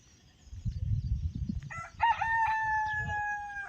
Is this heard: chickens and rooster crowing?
yes